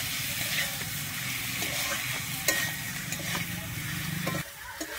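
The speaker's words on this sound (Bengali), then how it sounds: "আমি বিচে কলাটা দিয়ে কিন্তু এবারে একটু ভালোভাবে কষিয়ে নেব।" Boiled seeded bananas are sautéed in spice masala in a pan, with a steady sizzle and repeated scraping stir strokes, a few sharper clinks of the utensil, and the frying dropping a little near the end.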